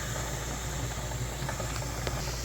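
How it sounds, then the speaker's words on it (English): Steam venting from the vent pipe of a pressure canner while canning raw pack chicken, a steady loud hiss with a low rumble underneath and a few faint ticks, continuous throughout with no talking. "Steam out the vent pipe there, which it is doing"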